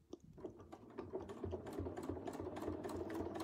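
Domestic sewing machine running in bursts of rapid stitching during free-motion quilting with ruler work, steady mechanical whirring and clicking up close, speeding and slowing with no talk.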